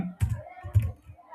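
A few soft computer keyboard keystrokes tap close by, two or three dull clicks spread over about a second, with faint background hum.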